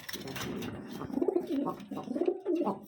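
Kashmiri lotan pigeons coo in low, throaty rolling phrases, repeated several times close by, with a little faint background noise.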